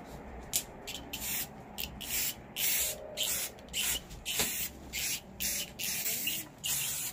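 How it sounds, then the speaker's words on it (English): Repeated short bursts of an aerosol spray can onto a canvas for a photo transfer, about a dozen hissing sprays in an uneven rhythm with brief pauses between them, close and fairly quiet. "We spraying."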